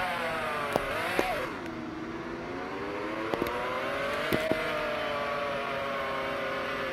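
V12 supercar engine in the Roblox game Taxi Boss, accelerating through rising gear pulls with short shift dips and a few clicks, a steady synthetic whine at moderate level with no talking.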